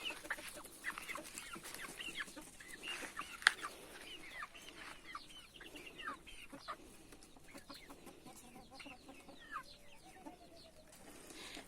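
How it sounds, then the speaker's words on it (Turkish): Black, white and multicoloured farmyard chickens cluck intermittently, soft and somewhat distant, with scattered short calls over quiet background noise. "siyah, beyaz, rengarenk arkadaşlarım, tavukçuklarım"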